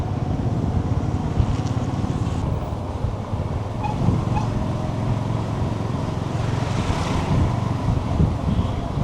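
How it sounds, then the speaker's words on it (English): Steady wind roars into the microphone over rolling surf at Mulungu Beach, loud and continuous without pause. "We are now at Mulungu Beach."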